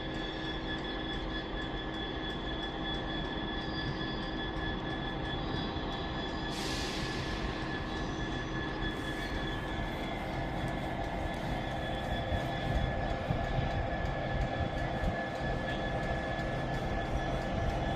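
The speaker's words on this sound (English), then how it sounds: "As we then also have an Evero coming in" Avanti West Coast Evero train arriving at Crewe station on the West Coast Main Line, a steady rumble of wheels and motors with a high whine, a few bursts of hissing and a sustained wheel squeal as it rolls in.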